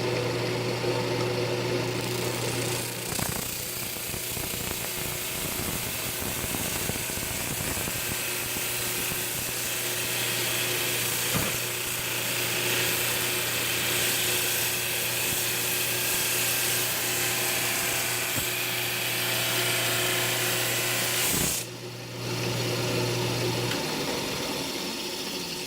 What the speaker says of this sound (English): let's sand it. I'm going to hit it with the 80 grit first.